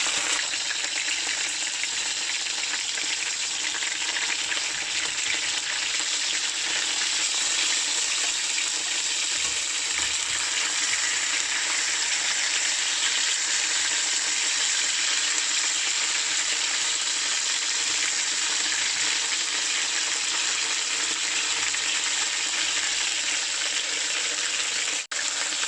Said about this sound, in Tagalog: iprito natin yung 2